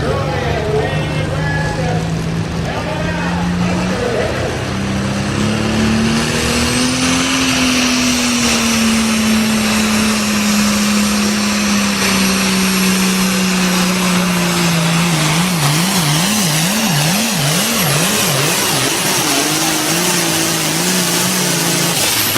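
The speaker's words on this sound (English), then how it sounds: "we're going to show Eric's run here on his Super Farm tractor" A Super Farm class pulling tractor roars at full throttle through a tractor pull run, its loud engine note climbing, holding and then wavering as the machine bounces, with a crowd and an announcer faintly underneath.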